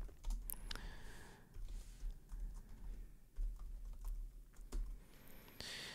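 Code being typed on a computer keyboard, a quiet, close patter of irregular key clicks in bursts with brief pauses, no talking.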